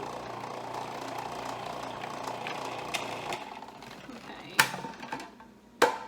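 A food processor whirs steadily through a sausage stuffing mix for stuffed mushrooms, a continuous close motor drone that fades slightly, punctuated by two sharp clacks near the end.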